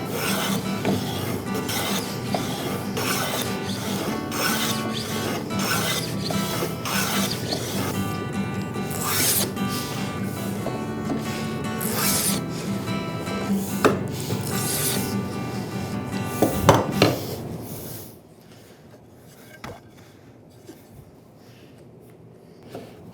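A groove for a tongue-and-groove joint is cut by hand in wood with quick, repeated rasping strokes that run steadily for about eighteen seconds, then stop, leaving near-quiet with a couple of faint knocks.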